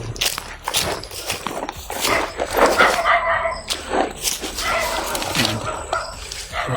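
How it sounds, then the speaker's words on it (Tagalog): Several dogs bark and yip in irregular bursts, some loud and near, with people's voices mixed in beneath them. "May mga aso talaga."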